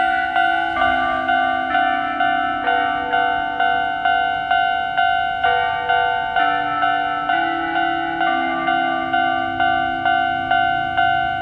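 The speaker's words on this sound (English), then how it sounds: "A lot of bells going on right now." Several bells ring in a Japanese mountain village, bright metallic strikes repeating in a steady, overlapping rhythm with shifting pitches, fairly close and clear, with no talking.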